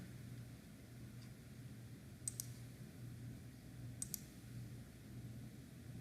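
Computer mouse clicks during web page inspection, two quick pairs of faint sharp clicks spaced a couple of seconds apart over a steady low hum.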